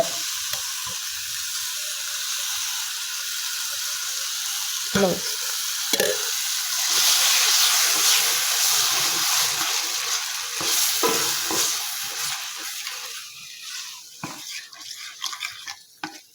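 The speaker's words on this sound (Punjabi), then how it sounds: "ਲਓ ਜੀ ਲੱਗ ਗਿਆ ਆਪਣੇ ਸਾਗ ਨੂੰ ਤੜਕਾ" Saag stirred in hot onion tadka sizzles continuously and fairly close, with scraping and clinks of a spoon against the pan, a brief voice near the end as the frying settles.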